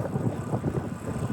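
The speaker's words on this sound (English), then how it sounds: "It's so windy" Steady wind buffeting a microphone at Tiger Leaping Gorge, a low rumbling roar that swells and dips throughout with no clear voices.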